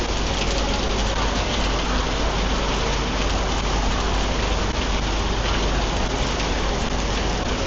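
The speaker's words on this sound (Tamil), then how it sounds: "வெளியே இவ்வளோ மழை பெய்யுது" Heavy rain pours steadily outside near Sentosa in Singapore, a dense, loud, unbroken hiss of downpour on surfaces that fills the whole stretch with no voices over it.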